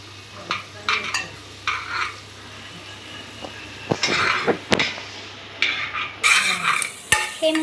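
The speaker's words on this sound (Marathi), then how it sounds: "हे मस्त परतवायचं आहे." A spatula stirs Everest masala as it stir-fries in a pan, giving repeated scraping strokes and sharp metal clinks over a light sizzle, close and fairly loud.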